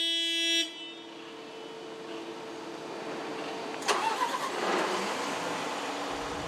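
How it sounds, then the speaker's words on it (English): A Liebherr LTM 1750 mobile crane's engine starts after a brief electronic tone, cranking with a few sharp bursts before settling into a steady low idle rumble. "Ottmar, you can start the engine."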